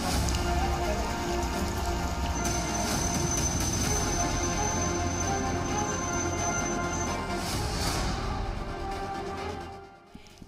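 Heavy monsoon rain pours down in Valsad, Gujarat, during flooding: a steady, dense roar of rain on surfaces that holds loud and unbroken for about nine seconds, then fades out near the end.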